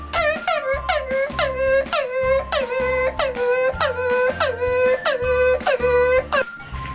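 A voice mimics a hurt dog's whimpering, with a quick series of high, yelping cries repeated rhythmically, loud and up close.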